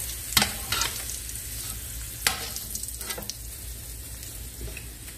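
Okra fries in a pan with a soft, continuous sizzle, broken by a few sharp clanks and scrapes of stirring close by.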